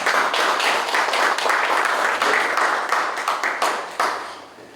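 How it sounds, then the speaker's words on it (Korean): An audience at a church pastors' forum applauds after a lecture, with dense, sustained clapping that thins and fades toward the end. "다시 한번 격려의"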